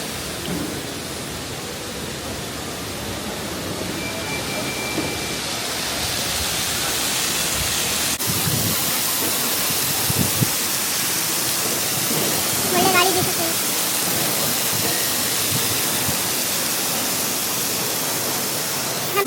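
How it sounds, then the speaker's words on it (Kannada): A small indoor fountain-style waterfall at an airport terminal pours with a steady, broadband hiss of falling water that runs unbroken throughout, with faint airport background activity beneath it. "ಇದೊಂದು ವಾಟರ್ ಫಾಲ್ಸ್ ಇದೆ ಫೌಂಟೇನ್ ಟೈಪ್"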